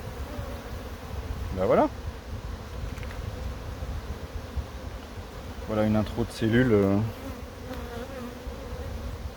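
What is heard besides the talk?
honey bees buzzing at an open hive frame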